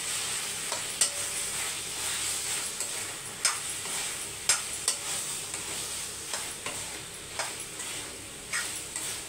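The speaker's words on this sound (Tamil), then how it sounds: "சேர்த்து நல்லா மிக்ஸ் பண்ணி விட்டுருங்க." Fried soya chunks (meal maker) are stirred into a pot of gravy, with a soft sizzle underneath and a spatula knocking against the metal pot in a loose, uneven rhythm, close by and without talking.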